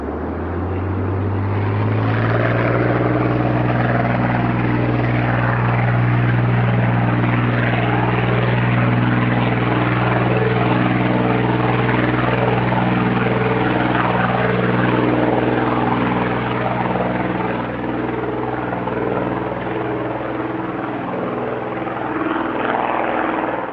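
A MiG-3 propeller fighter flies past with a loud, steady droning engine and propeller roar that holds throughout, with no voices.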